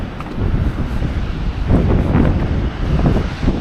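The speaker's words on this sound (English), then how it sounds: "It is very windy and it is very cold right now" Strong, cold wind in Iceland buffets the microphone in steady, rumbling gusts, with low roaring noise filling the whole clip and surging louder midway.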